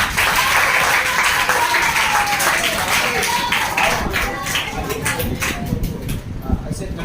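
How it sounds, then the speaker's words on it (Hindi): Students clapping together to welcome children at a tuition class, a dense crowd of applause that thins into scattered claps toward the end, with some talk mixed in. "ताली हो जाती है।"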